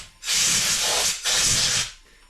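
Compressed air from a blow gun hisses into a chainsaw's chain adjustment hole in two strong, close bursts, each lasting under a second with a brief gap between them.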